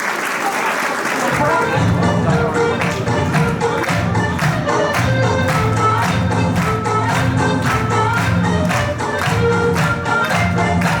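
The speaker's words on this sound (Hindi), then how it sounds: "तालियां बजाइए हमारे छोटे छोटे खिलाड़ियों के लिए" Loud, sustained applause and clapping from an audience at a school annual day celebrating small children, steady and dense throughout with some crowd noise and music-like tones underneath.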